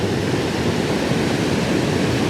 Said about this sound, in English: There's so many waterfalls.